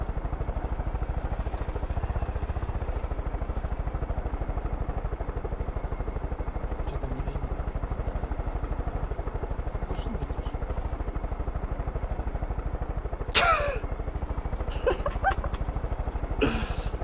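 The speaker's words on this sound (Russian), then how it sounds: "У меня самолет с вертикальным взлетом." A vertical takeoff aircraft flies in the video game Far Cry 5, making a steady, loud, throbbing engine drone throughout, with a few sharp clattering impacts near the end.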